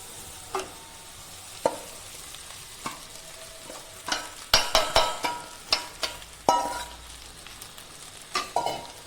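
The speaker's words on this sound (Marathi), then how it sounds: "आता मी यात साबुदाणा टाकते" Soaked sabudana (tapioca pearls) with boiled potatoes fries in a pan for khichdi, the spoon scraping and stirring in a run of sharp clacks over a low, steady sizzle, close and fairly quiet, with no talking.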